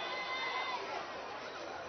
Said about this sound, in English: crowd of Brewer fans making a lot of noise.